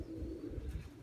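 Pigeons from a large flock cooing, low soft throaty coos close by over a quiet background.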